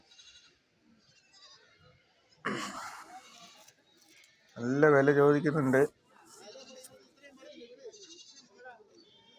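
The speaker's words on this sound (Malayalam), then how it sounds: "നല്ല മുട്ടനാടുകൾ ഇറച്ചി ആവശ്യത്തിന് വളർത്താനും പറ്റിയ മുട്ടനാടുകളാണ് ഈ വണ്ടിയിൽ നിൽക്കുന്നത്" Male goats being sold for meat bleat from inside a vehicle at a goat market, with a loud, wavering cry near the middle and fainter calls around it, while someone talks between them.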